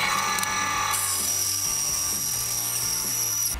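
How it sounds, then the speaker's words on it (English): A small bandsaw cuts a piece of thin aluminum with a loud, steady whine and a high-pitched screech from the blade that holds continuously to the end, close up with no talking. "this little tiny bandsaw blade should be able to cut it just fine"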